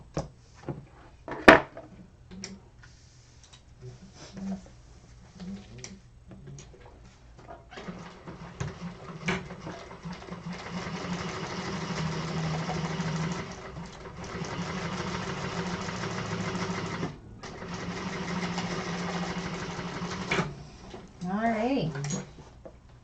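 A sewing machine top stitching the exterior of a double zip bag, its steady mechanical whirr running in long stretches with brief stops and handling clatter, fairly close and moderate in level.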